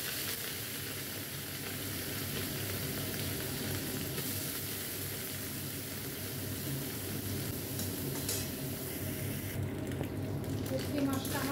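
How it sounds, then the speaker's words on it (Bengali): Dried kachki fish fries in hot oil in a pan, a continuous, moderate sizzle and crackle lasting the whole stretch with no voices over it. "এই কাচকি শুটকিগুলো দিয়ে দিলাম।"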